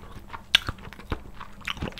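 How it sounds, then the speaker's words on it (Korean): Cooked potato from a spicy Korean chicken stew with glass noodles being bitten and chewed close to the mic, with a sharp bite followed by soft wet mastication clicks and smacks at an uneven pace. "이번에는 감자를 먹어볼게요"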